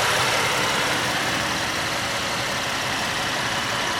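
A 2014 Chevy Impala police package with a 3.6-liter engine and 109,000 miles idles close by, giving a steady, smooth, even rumble with no changes in pace.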